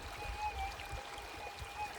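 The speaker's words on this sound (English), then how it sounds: "Water's running, all the snow melt." Snow-melt water runs through a wash in the Arizona desert with a steady, soft rushing flow that stays fairly close and constant, and a faint high whine from the metal detector carries under it.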